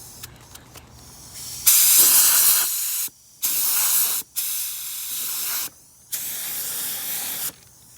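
A spray gun lays clear coat on a car spot repair in a series of close, loud hissing bursts of varying length separated by short pauses, with quieter air hiss between passes.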